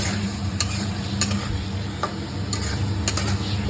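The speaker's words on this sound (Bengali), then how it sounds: "নাড়ো নাড়ো নাড়ো নাড়ো, আমি নেড়ে দিচ্ছি।" Food frying in a pan, a bright yellow mixture being stirred, with a steady close sizzle and scattered scraping clicks from the spatula over a low background hum.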